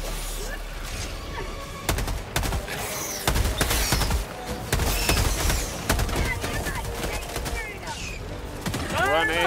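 Sustained automatic gunfire in Helldivers 2 pours out in dense bursts until the magazine runs dry, loud and close amid explosions and crashing battle noise, with a voice speaking over the firing.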